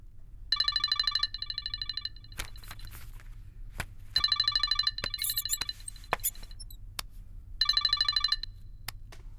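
A telephone rings with an electronic bell in three bursts of rapid repeated trills, each followed by a pause broken by a few sharp clicks, heard clearly against a low background hum.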